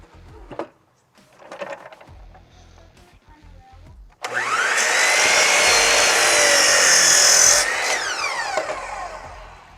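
A power saw bites into a wooden board to trim off the factory end, a loud, sustained whining cut of about four seconds after some quieter knocking and handling, then spinning down.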